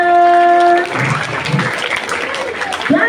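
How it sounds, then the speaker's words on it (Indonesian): Schoolchildren in a classroom clap for a classmate during a reading lesson, a short ragged round of applause that follows a sustained tone and fades quickly. "Oke, tepuk tangan untuk temannya"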